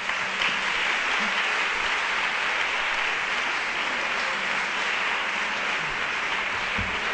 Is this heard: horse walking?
no